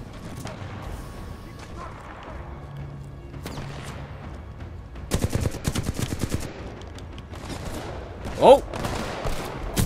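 Bursts of automatic gunfire from the video game Titanfall 2, a rapid rattling volley in the middle followed by scattered shots and a brief impact, over game ambience, with a short exclamation from a player.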